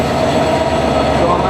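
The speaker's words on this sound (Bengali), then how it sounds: "আমাদের চিত্রা এক্সপ্রেস ট্রেনটা দাঁড়ায় রয়েছে" A Chitra Express train at a station platform gives off a steady, loud, continuous rumble with broad mechanical hum throughout, and no clear wheel clatter stands out.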